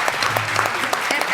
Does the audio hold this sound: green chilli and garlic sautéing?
no